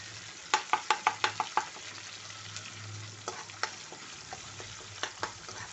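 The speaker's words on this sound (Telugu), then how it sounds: "కర్రీ వండితే ఇలా చిట్టుతుంది కదా" Ginger garlic paste spluttering and sizzling in hot oil for a drumstick and tomato curry, with a burst of sharp crackling pops early on, then steady frying and scattered pops throughout, close and alone.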